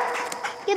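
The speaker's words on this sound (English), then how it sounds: "You gotta tell your puppy he's a good boy." A young hunting puppy whimpers and yips close by, a short, thin, high whine lasting under a second that fades out softly at the end.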